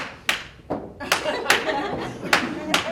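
An audience at a health equity summit claps in a few scattered, uneven bursts, with sharp isolated hand impacts and soft laughter mixed in rather than sustained applause.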